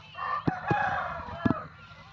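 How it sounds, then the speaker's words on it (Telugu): A rooster crows nearby in Antarla village, Chintapalli, a drawn-out call, with a few soft knocks and clucks around it. "ఇక్కడ కోళ్ళు అయితే చాలా"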